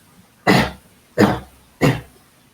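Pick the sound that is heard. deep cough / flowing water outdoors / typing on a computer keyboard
deep cough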